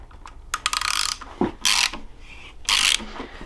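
A 3/8 inch drive ratchet clicks in rapid bursts while turning an engine crank, giving several loud, close ratcheting strokes separated by short pauses.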